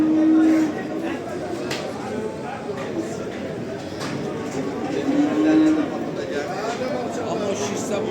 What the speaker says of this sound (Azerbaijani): Kardeşim bak böyle danalar var.